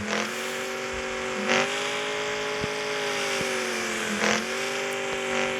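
A McLaren 720 engine revs hard and steadily, with its rising pitch dropping briefly at each of several gear shifts and short crackles between them.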